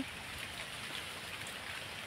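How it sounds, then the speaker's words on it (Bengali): Rain falling outdoors under a cloudy sky near guava trees gives a soft, continuous hiss of drops, even and fairly faint throughout. "এ দেখুন বৃষ্টি পড়ছে"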